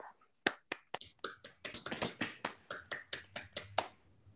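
Participants in an online talk on phylogenetic networks unmute and clap in thanks, giving about a dozen separate, sharp claps in a loose irregular rhythm, thin and close to the microphones, with no one speaking.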